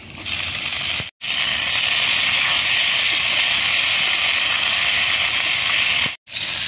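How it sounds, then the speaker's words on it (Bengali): Broad beans are tipped into lightly fried eggplant in hot oil, giving a loud, steady, close hiss of sizzling that runs almost the whole time, broken by two brief silent gaps. "বেগুনটা একটু হালকা করে ভাজা হয়ে গেছে, এবার আমি দিয়ে দেবো কেটে রাখা সিমগুলো"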